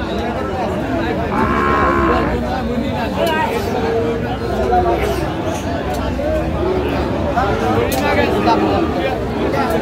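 A Sahiwal calf moos repeatedly at a busy cattle market in Chattogram, its calls rising over a steady crowd babble and nearby chatter.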